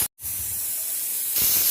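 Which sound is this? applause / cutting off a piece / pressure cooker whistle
pressure cooker whistle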